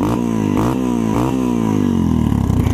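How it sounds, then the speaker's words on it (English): An uncorked 2016 Yamaha TTR230 dirt bike engine idles loudly and close by, with a steady throbbing drone and slight rhythmic surges in pitch, alone with no talk. "Already sounds louder at idle."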